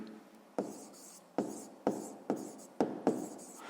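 A pen writes figures by hand on paper for a sixth-grade maths exercise, about seven quick scratchy strokes in an irregular rhythm, each starting with a tap and trailing off, close and quiet.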